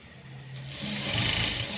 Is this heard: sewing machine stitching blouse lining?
yes